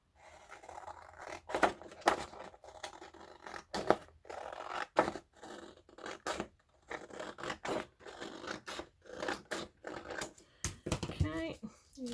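Scissors snipping through a book page, a series of short sharp cuts and crisp paper rustles at close range, with someone talking softly between them.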